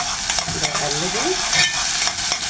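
A spoonful of tomato fries in a hot pan while being stirred, giving a busy sizzle broken by scraping stirring strokes, close and steady, with no talking.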